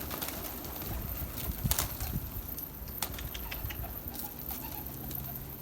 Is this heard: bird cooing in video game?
yes